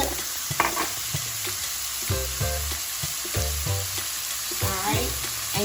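Onions and cilantro sizzle steadily in a hot pan, with repeated clattering stirs of a utensil sounding over the constant frying hiss.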